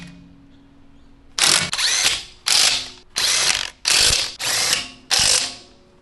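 A socket wrench with a plastic-sleeved socket tightens a lug nut on a Tesla wheel, giving seven loud, close bursts of rapid ratchet clicking separated by short pauses.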